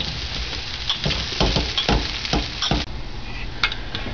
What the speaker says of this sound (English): the mushrooms have been simmering for a bit in the butter